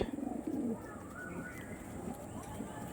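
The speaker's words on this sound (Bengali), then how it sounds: "এটা এখানকার পায়রা না দেখুন এই হচ্ছিল বন্ধুরা অন্ধ্রের মেচুয়া মাদি" Andhra Mechua female pigeon cooing up close, a quick run of soft rhythmic coos at the start followed by quieter murmuring and faint background chirps.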